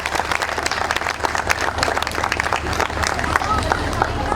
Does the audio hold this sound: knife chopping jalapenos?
no